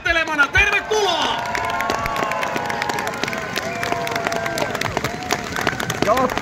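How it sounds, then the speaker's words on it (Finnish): Loud crowd applause and cheering with whoops and shouts at an outdoor market-square celebration for the KuPS women's football team as players come onto the stage, sustained throughout with voices mixed in. "tänne lavalle raikuvien aplodien saattelemana"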